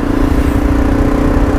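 A moped rides past on a quiet country road, its small engine buzzing steadily and fairly loud under the constant drone of a Pegaso 650 motorcycle's own engine and wind.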